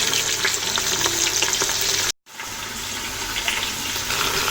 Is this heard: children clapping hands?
no